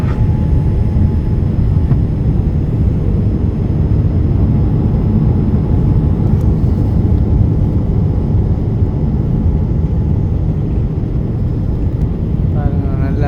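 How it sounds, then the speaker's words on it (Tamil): Steady, loud airplane cabin drone during descent toward landing at about 1500 feet, a dense continuous low rumble with faint tonal hum filling the whole stretch. "பாருங்க, நல்லா பதியுது போல ஃப்ளைட்."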